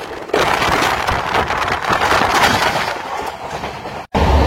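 Amrit Bharat Express running at speed on rails over a bridge, a steady loud rumble with rhythmic clatter filling the clip and one abrupt brief dropout near the end.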